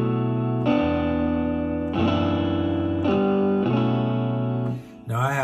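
Ample Sound Strat virtual electric guitar played through Scaler 2, with a series of sustained strummed chords that change roughly every second, a bright, chorus-like effected tone, ending in a brief gap and a short sliding note.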